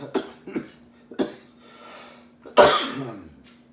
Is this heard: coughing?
yes